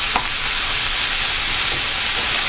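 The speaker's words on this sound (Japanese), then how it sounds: "少し炒めて" Mushrooms stir-fry in a pan as filling for a penne gratin, a dense continuous hiss of sizzling oil with one quick clack of a utensil near the start, close and steady.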